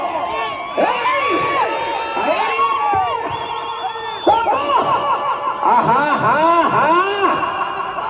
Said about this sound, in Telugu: మరి అంతే కదా కేకలు రావాలి జనాల్లో